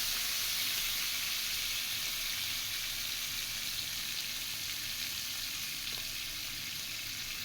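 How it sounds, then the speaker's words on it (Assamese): Crab pieces fry in hot oil in a pan with a continuous, even hiss of sizzling. The sound is fairly soft and steady throughout, with no talking. "কেকেৰাখিনি অলপমান ভাজি ল'ব লাগিব"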